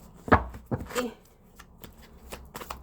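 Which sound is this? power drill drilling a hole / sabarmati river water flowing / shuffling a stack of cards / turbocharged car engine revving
shuffling a stack of cards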